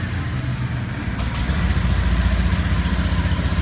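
A used Honda Beat automatic motor scooter engine idles with a steady low putter, rising slightly partway through, heard up close with no talking.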